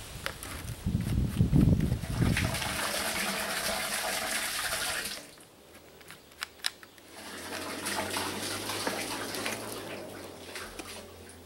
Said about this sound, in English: Now I'm just splashing some along the wall there, just to disinfect that too.